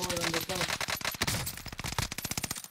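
Rapid gunfire crackles in the Call of Duty Warzone video game, dense bursts of automatic shots close and loud, with another volley of quick cracks following toward the end.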